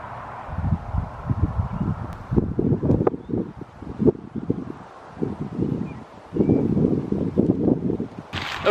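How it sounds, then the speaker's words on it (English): Wind gusting around a campsite with a cheap tent, heard as broad rumbling buffets and microphone wind noise that swell and drop in uneven bursts throughout, with brief quieter lulls. "the wind is really getting up, so hopefully it doesn't affect the audio too much"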